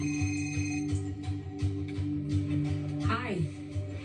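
Mobile phone ringtone in a TV show, a repeating electronic tone pattern heard faintly beneath people talking.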